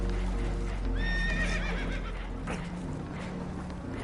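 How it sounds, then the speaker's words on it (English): Spooked horses whinny and neigh in Red Dead Redemption 2, a loud high neigh followed by restless snorting and clopping over a low, continuous rumble aboard a damaged boat taking on water. "Horses are spooked, and we're taking on water."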